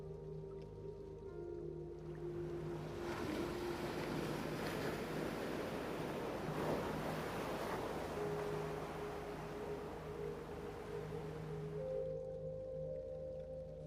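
Atlantic Ocean waves wash and swell in a soft, continuous rush that rises and falls, heard faintly and alone beneath a low sustained tone.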